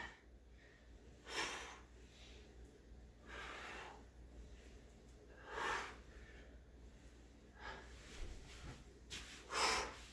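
Heavy, effortful breathing during a climbing-fitness workout exercise: close, fairly quiet breath bursts every two seconds or so, with no talk.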